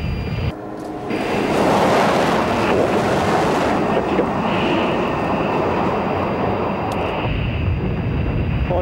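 The Bloodhound supersonic car's engines during a high-speed run, a loud, steady broadband roar that surges up within the first second and holds at full power to the end, with no talk over it.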